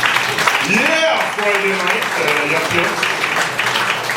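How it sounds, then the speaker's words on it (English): Comedy club audience applause on a Friday night, steady clapping and cheers running the full few seconds while someone speaks over it into a microphone. "a round of applause"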